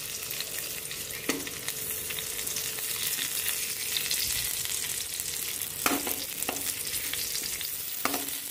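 Paneer paturi parcels wrapped in leaves frying in oil over raised flame, a steady close sizzle with a few sharp clicks and taps of a utensil against the pan, no voices.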